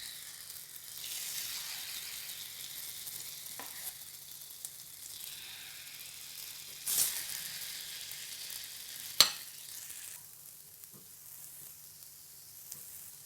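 Idli batter for sweet paniyaram sizzling in a hot paniyaram pan over a low flame, a steady soft frying hiss with a couple of brief sharper crackles, fairly quiet and with no talk.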